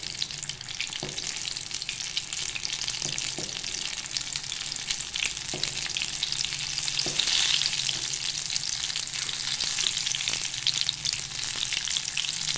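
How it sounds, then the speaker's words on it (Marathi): Paneer pakoras deep-frying in hot oil make a steady, dense crackling sizzle that runs throughout, close and even, with a few faint utensil taps underneath. "आता हे पकोडे मी छान खरपूस होईपर्यंत तळून घेणार आहे।"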